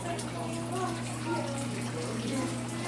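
A washing machine being tested after repair pumps out its water, producing a steady rushing, gurgling flow with a constant hum underneath throughout.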